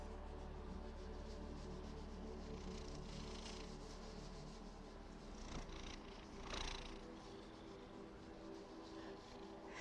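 An orange cat purring steadily and close, a soft continuous rumble lasting throughout over faint background hum, with no talking.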